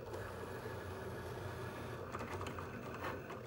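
A Cricut machine cuts around a printed image with a steady close mechanical whir, while faint clicks and shifting motor tones mark changes in the blade carriage's movement.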